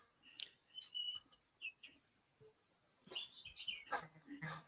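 A bird toy being shaken chirps in short, high-pitched bursts, scattered and close, mixed with faint rustling and small clicks.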